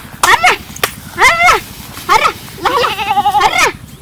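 A goat bleats several times in a row, loud and close, each cry a wavering, quavering call with short gaps between, the last one longer and more drawn out, set against a rural backdrop.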